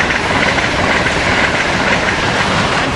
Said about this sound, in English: Here we got what's supposed to be a Acela train 2122 going north.